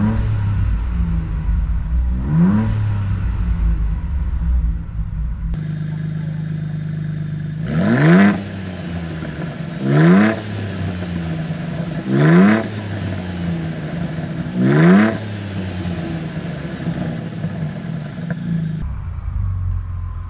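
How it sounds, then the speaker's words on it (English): Ford Bronco Raptor with SPD exhaust and downpipes in normal mode gives four loud, rising revs spaced a couple of seconds apart, each ending in a sharp Turbosmart blow-off valve whoosh over a steady low idle rumble. "Now we'll do normal mode with the SPD exhaust system. You are going to hear the Turbo Smart blow-off valve as well."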